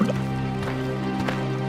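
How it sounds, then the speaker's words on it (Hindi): Water fills clay pots at a riverbank with soft, gurgling drips and trickles over a steady background, with no talk. "अपने अपने मटके में पानी भरकर"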